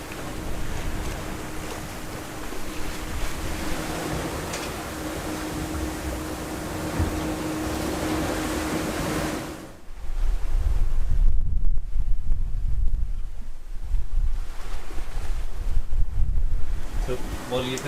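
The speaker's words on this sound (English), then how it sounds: "I'm just looking at the waves." Open-ocean waves wash around a sailboat at sea on a transatlantic passage, a continuous rushing surge with heavy wind buffeting the microphone and a louder swell in the second half.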